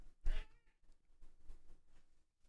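A cat meows close by, one clear call near the start, followed by quieter, faint vocal sounds over a low room background.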